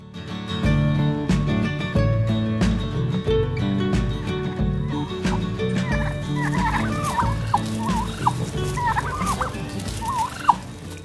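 Wild turkeys from Central Michigan gobble repeatedly in the second half, loud bursts of rattling calls over a steady musical bed with a rhythmic beat.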